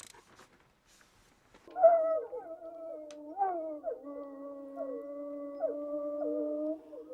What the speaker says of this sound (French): Les hurlements provoqués sont en France réservés aux scientifiques.